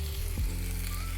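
Cauliflower and paneer curry cooking in a pan, a brief steady sizzle close by with a soft clunk of stirring, under a low background hum.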